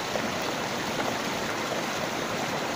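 A river running high rushes over a drop in a steady, loud, close roar of water with no gaps, and no voices are heard.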